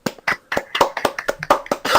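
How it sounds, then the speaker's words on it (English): A small group claps for about two seconds, with sharp irregular hand claps arriving close and quick at a loose rhythm on a podcast. "applause."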